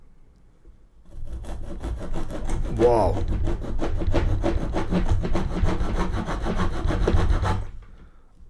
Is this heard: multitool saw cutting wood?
yes